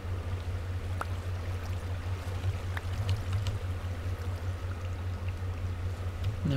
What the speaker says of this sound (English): Now we've got this waterfall.